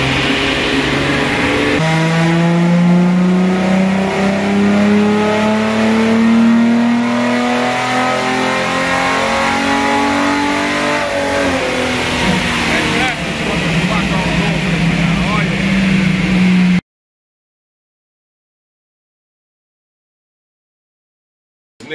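A car engine fitted with Weber carburetors and running without an airbox or heat shield revs hard and close, climbing and holding in loud sustained pulls before cutting off abruptly into silence.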